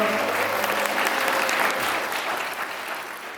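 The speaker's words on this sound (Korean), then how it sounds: "박수 부탁드리겠습니다." A wedding crowd applauds steadily for a few seconds, the clapping thinning out slightly toward the end.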